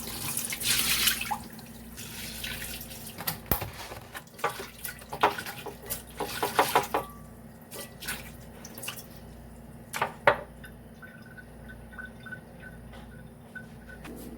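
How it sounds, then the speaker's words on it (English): Sea moss being rinsed by hand in a kitchen sink, with water trickling, splashing and dripping in irregular bursts over a faint steady hum, no one talking. "we are going to discard this water and wash it one more time."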